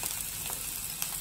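Egg noodles frying in a pan give a brief, steady sizzle with faint crackles, close and moderately quiet, with no voices.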